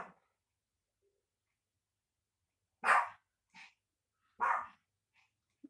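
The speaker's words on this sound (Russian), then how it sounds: "Кому нужна лающая собака?" A dog inside a house gives a few short, sharp barks spaced apart, fairly quiet against near silence.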